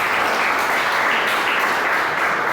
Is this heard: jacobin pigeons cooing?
no